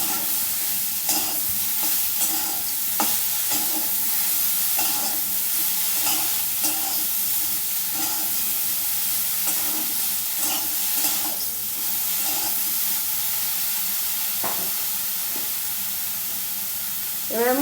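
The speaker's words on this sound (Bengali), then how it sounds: "বড়ির সঙ্গে বেগুনটাও ভালো করে ভেজে নেব।" Eggplant fries with lentil dumplings in a pan, giving a steady soft sizzle and hiss broken by repeated scraping stirs, close by, with no talking.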